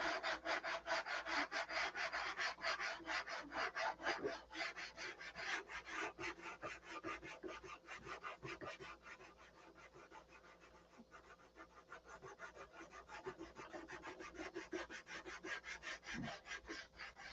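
Fine 5000-grit wet sandpaper with alcohol rubbing glue off a model aircraft's leading edge, a quick rhythmic back-and-forth scrubbing, close and fairly soft, steady throughout with no talking.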